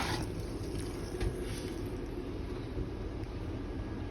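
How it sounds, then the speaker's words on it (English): A standard foot-pedal toilet flush in the bathroom of a 24RBS Envision RV gives a steady, close rush of water that runs evenly throughout, with no talking. "Toilet operation, standard foot flush on the front."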